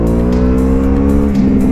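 A Ducati motorcycle accelerates hard in first gear, its engine a loud, close, throbbing roar that holds steady and then shifts pitch slightly near the end.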